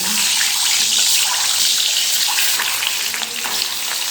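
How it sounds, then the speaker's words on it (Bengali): Eggs fry in hot oil in a kadai, giving a loud, continuous hissing sizzle with fine crackles that runs steadily throughout without talk. "এখন এই ডিমগুলো আমি ভেজে নেব"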